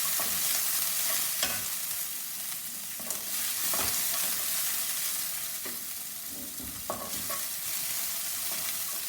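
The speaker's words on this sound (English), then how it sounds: "Now add this onion pieces," Onion pieces fry in a pan for a South Indian vegetable sambar, giving a steady, loud sizzle with occasional scraping stirs, with no voices.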